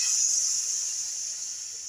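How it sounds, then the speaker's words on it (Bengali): Water hits a hot pan of frying vegetables (data stalks and jackfruit seeds) with a loud, steady sizzling hiss that fades only slightly over two seconds. "এবার আমি জল দিয়ে দেবো।"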